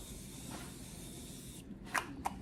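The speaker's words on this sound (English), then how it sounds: "I'm going to use the Morphe Continuous Mist Setting Spray." Morphe Continuous Mist setting spray is sprayed over a made-up face. Hissing bursts of fine mist come close to the mic, a longer one first and then two short sharp puffs.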